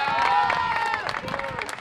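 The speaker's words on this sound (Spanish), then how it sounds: "Aplauso" An audience at a performance by a Cuban musical ensemble in Varadero claps and cheers, the applause mixed with crowd voices and a sustained whistle-like tone, loud at first and thinning slightly toward the end.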